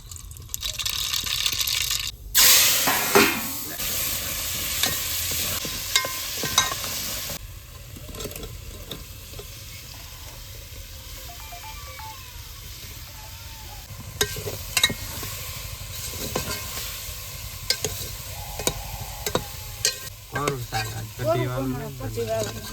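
Spices crackling in hot oil for a village tempering of drumstick curry, a steady close sizzle with stirring scrapes, loudest near the start and continuing with lighter bubbling and clinks, some faint voice in the background.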